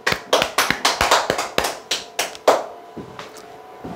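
A small group claps in a brisk, uneven burst of about a dozen sharp hand claps over a few seconds, close and fairly loud, tapering off near the end, with no talking.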